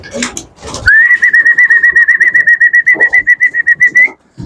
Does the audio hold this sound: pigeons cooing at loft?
yes